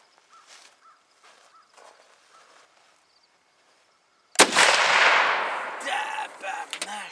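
A single loud rifle shot during hunting practice ends a quiet stretch of faint shuffling, its blast and echo ringing on for a few seconds.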